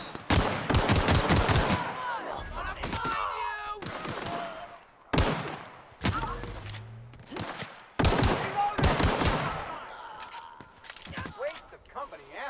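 Bursts of gunfire from a gun in The Outer Worlds video game crack out in sharp, separated volleys with short gaps between them, while someone talks in the pauses.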